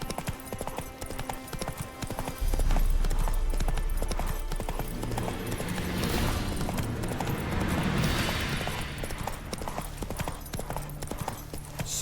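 Roach the horse's hooves clip-clop steadily in The Witcher 3, a continuous close rhythmic trot over a loud rumbling game soundscape.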